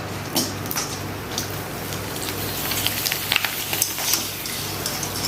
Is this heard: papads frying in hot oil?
yes